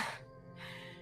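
One sharp, fairly quiet intake of breath, a sudden gasp of fear, standing alone with no talk over it.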